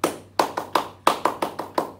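Sharp hand claps in the Japanese 3-3-7 pattern, crisp and close, a few claps per group spaced out with distinct pauses, with nothing else underneath.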